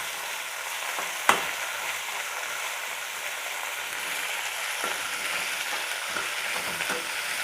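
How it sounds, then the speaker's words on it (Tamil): Onions sizzle steadily in a hot pan while being sautéed for puri masala, with occasional scraping clinks as they are stirred, no voices. "வெங்காயத்தை சேர்த்து நல்லா வதக்கிக்கிறலாம்."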